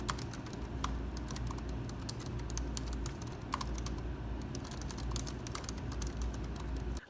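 Steady typing on a computer keyboard during a writing session, with quick irregular clicks and keystrokes running throughout at close range and no voices.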